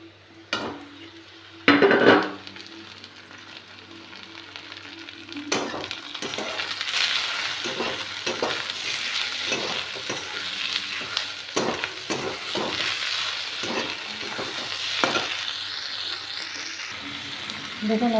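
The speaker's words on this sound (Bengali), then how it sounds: "পেঁয়াজটা একদম লালচে করে ভাজা হয়ে গেছে। এরপর আমি দিয়ে দিচ্ছি একটা কুচো করা টমেটো" Reddened onion and chopped tomato sizzle in a pan, with utensil clinks and scraping as the mixture is stirred, steady and close.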